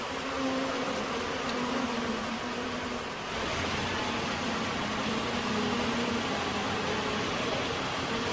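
Continuous buzzing hum of a swarm of disoriented honeybees, a dense, even drone at moderate distance with faint tonal lines and little variation.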